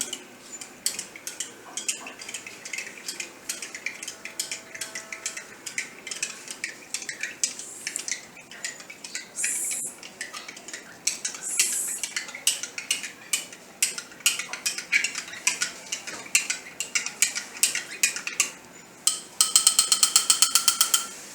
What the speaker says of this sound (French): On va bien remuer afin de s'assurer que le mélange soit bien homogène